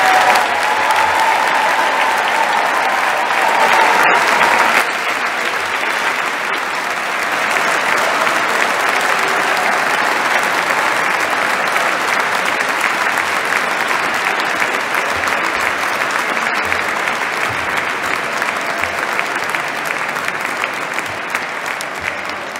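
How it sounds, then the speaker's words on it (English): Graduation ceremony audience at Canterbury Cathedral gives a long, dense round of applause for new graduates, steady and loud in a reverberant hall for over twenty seconds. "can I invite you all to give a big round of applause to our new graduates"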